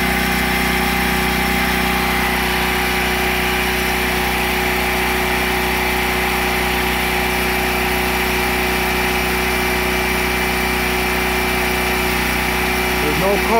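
A Maytag dryer motor spins steadily with a continuous humming, whining drone that stays loud and close throughout without a break.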